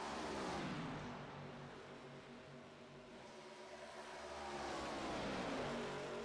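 Engines of NASCAR race cars in the iRacing video game, several cars roaring and revving together as they pass, with sweeping pitch changes, fairly faint and steady.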